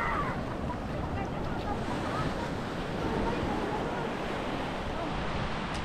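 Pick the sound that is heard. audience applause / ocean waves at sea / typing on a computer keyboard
ocean waves at sea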